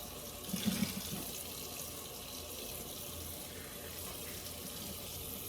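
Tap water runs steadily into a sink as a sneaker is rinsed, a constant hiss with a brief heavier splash near the start and no talking.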